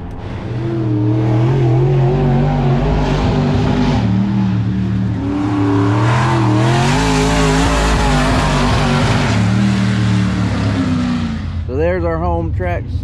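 A race car lapping Southern Raceway, its engine roaring loud and close throughout, with rising and falling revs through the corners and a pitch sweep near the end as it shifts or passes.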